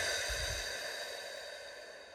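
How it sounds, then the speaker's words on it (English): A single slow, deep breath drawn in and let out during a relaxation moment, soft and close, with a breathy hiss and no talking. "let's just take 2 deep breaths to close out the energy"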